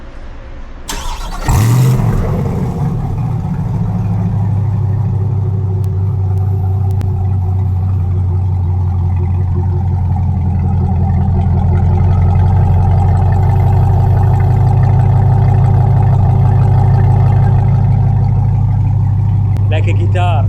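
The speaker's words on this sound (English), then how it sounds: "So now listening to the Borla exhaust." A Corvette C8 fitted with a Borla exhaust starts and settles into a deep, rumbling idle with steady low-pitched engine tone, close and loud, held for about twenty seconds.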